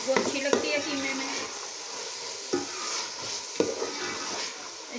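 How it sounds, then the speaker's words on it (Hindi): Beef keema frying in a pot as a spoon stirs it, a steady sizzle broken by a few sharp scrapes and clanks of metal, close and fairly loud. "इसे अच्छी तरह से भूनेंगे"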